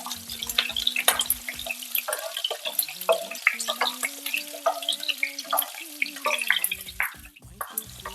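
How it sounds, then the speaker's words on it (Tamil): Small onions frying in oil for a Hogenakkal-style fish curry, a soft crackling sizzle with scattered pops and light stirring, close and fairly quiet, a low tonal hum running underneath. "இந்த எண்ணெயில வெங்காயம் நல்லா வேகணும்."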